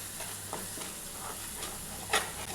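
Garlic chutney with chili powder sautéing in oil over low heat, a soft continuous sizzle with occasional spoon scrapes and light taps against the pan, fairly quiet and close, no talk.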